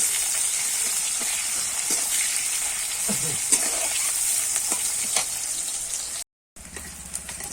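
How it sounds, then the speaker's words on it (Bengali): Chopped onion frying in hot oil in a pan for Bengali Tangra fish curry with cauliflower and potato, a steady close sizzle and hiss broken by occasional stirring scrapes, cutting out briefly near the end. "পেঁয়াজটা আমি একটু লাল লাল করে ভেজে নেব"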